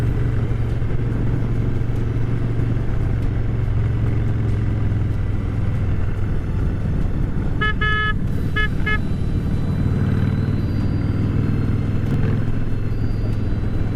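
Hundreds of motorcycles ride together in a Harley charity toy run in Greenville, a steady loud engine rumble with a couple of short horn toots midway and no talk.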